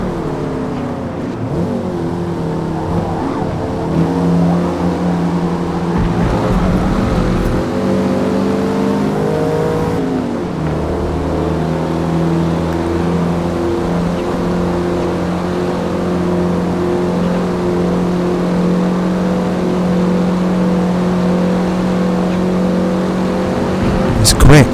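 Racing car engines in Forza Motorsport during a Classic Sport Series race, a loud sustained drone with shifting revs and gear changes as cars run close together, with occasional talk over the top.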